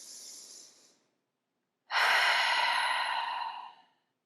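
Two deep breaths during a yoga session: a softer breath fading out, a short silence, then a long, strong, airy exhale close to the microphone that tapers away.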